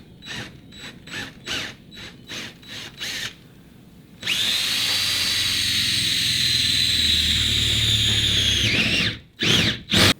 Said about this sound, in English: So I'm going to use this 1/2-inch drill bit and put my first hole in the wall.